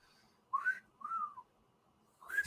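A person whistles three short rising-and-falling notes with pauses between them, close and clear against a quiet background, with no talking.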